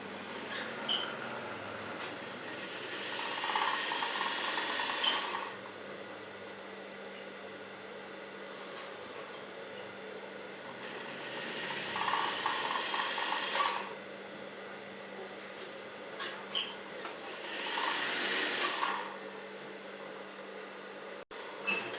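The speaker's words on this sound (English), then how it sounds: "We're going to stitch it all the way down." A sewing machine stitches a side stripe onto trousers in three separate whirring runs of a few seconds each, with quiet pauses between them; faint and with no talking.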